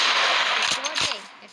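Gunfire from the Tech Guns mod in Minecraft, a couple of sharp reports in under two seconds over a noisy, busy game background.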